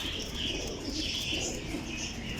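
A breeder's pigeons coo softly and continuously, layered throaty calls with faint chirps and a brief hint of wings, heard alone at low level.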